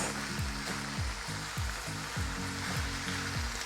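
Beef sizzles and fries steadily in rawon spice paste, a soft continuous crackle with faint stirring scrapes and no talk.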